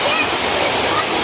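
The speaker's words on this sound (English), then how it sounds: "behind me is the Bahubali waterfall, as you can see." A tall artificial waterfall at Ramoji Film City gives off a loud, steady broadband roar of falling water with no break, filling the whole short stretch close up.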